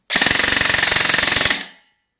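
A G&P Sentry M4 airsoft rifle fires one loud, close full-auto burst of about one and a half seconds, its rapid mechanical chatter steady and even before cutting off.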